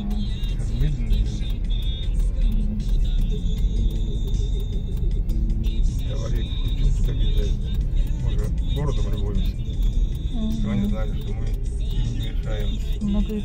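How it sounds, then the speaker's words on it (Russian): A car drives around on a snowy winter street, its steady engine rumble and tyre noise continuous and fairly close, with voices talking over it throughout. "Машина объезжает, пускай."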